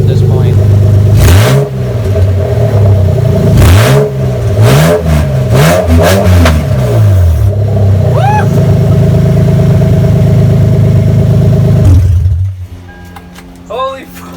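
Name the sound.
Lexus IS300 engine revving with open headers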